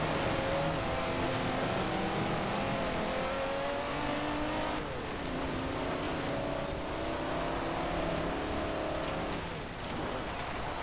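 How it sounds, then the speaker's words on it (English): V12 engine of an extremely large car racing in Forza Horizon 4, a steady loud engine drone with shifting tones and a brief dip near the middle, heard alone without talk. "probably is allowed to unleash its mighty V12 engine"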